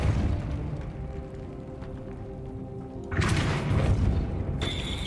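A Depulso spell cast in the Hogwarts Legacy video game lands as a sudden, loud, booming burst after a steady low hum, followed moments later by a bright ringing tone.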